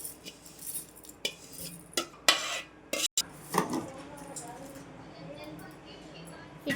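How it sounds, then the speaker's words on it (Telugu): Fried vermicelli is moved into another bowl, with scattered metallic clinks and scrapes of utensils against pots and dishes, close and fairly quiet, with a voice speaking in between. "వేయించిన సేమియాని వేరే గిన్నెలోకి మార్చుకోవాలి."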